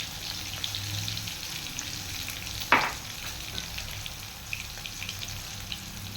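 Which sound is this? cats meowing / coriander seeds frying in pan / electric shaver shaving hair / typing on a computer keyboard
coriander seeds frying in pan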